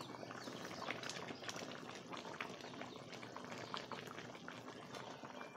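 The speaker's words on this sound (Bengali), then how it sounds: "তরকারির ঝোলটা ফুটে গেছে।" Fish curry gravy with vegetables boils gently in a covered pot, a soft, continuous bubbling and faint gurgling that stays quiet and even throughout.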